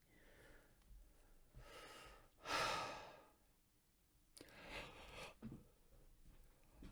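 A woman's long drawn-out yawn in a quiet room, a breathy rising exhale peaking mid-clip and tapering off, followed by softer sighing breaths; no words spoken.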